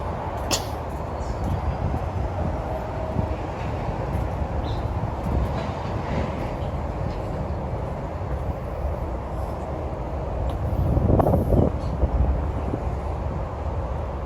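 A train crosses the Harahan Bridge in Memphis, Tennessee, at about 20 miles an hour with a continuous low, heavy rumble, wind buffeting the microphone, and the noise swelling briefly near the end.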